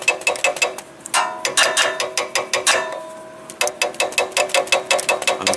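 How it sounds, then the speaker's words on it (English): Rapid metallic tapping with the end of a wrench on a forklift's stuck solenoid, sharp close strikes in quick irregular bursts with brief pauses, loud and alone. "tap on the solenoid. Maybe it will unstick it, maybe it wouldn't"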